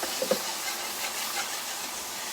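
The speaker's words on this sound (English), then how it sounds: "And it's going to do some steaming." A pan steams and hisses as country style steak gravy with flour cooks on medium-high heat. The broad, steady sizzle stays close, with a few faint pops near the start.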